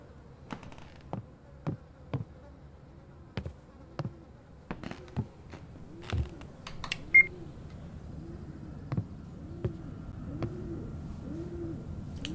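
Pigeon cooing in the horror game Summer of '58, soft repeated coos rolling along quietly beneath scattered sharp ticks and clicks in an otherwise hushed scene.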